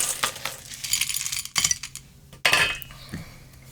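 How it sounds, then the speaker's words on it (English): Ice cubes dropped into a glass for a caipirinha, landing in a few separate clattering bursts with clinks, close and fairly loud, no talking. "we're going to put our ice in first"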